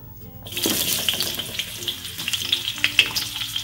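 Onion sautéing in hot oil for street-style mie tek-tek with chicken feet, a steady close sizzle that swells from near silence, with light stirring scrapes and occasional pops throughout.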